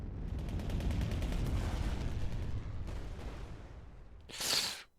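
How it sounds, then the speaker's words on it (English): Bombing raid attack effect from the KARDS World War II card game: a sustained heavy rumble of blasts and gunfire-like bursts for several seconds, easing off before a sharp, bright final burst near the end. "Bombing raid."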